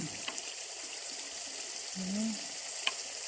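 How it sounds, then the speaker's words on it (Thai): One kilogram of shallots fries until golden in hot oil for pad thai sauce, with a steady, fairly faint bubbling sizzle and an occasional stir. "เจียวให้เหลืองนะคะ หัวหอมหนึ่งกิโลกรัม"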